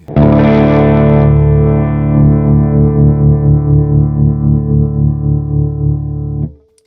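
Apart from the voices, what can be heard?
guitar through Stone Deaf PDF-1X parametric distortion filter pedal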